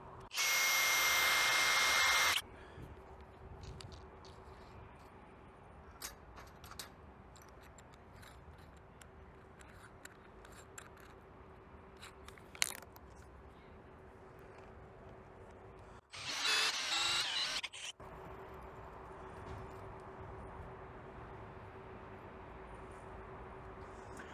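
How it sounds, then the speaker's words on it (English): Two loud bursts of a power drill whine boring a hole in metal, a few seconds each, separated by quiet stretches of faint clicks and handling noises. "Guess I should have started with a smaller drill."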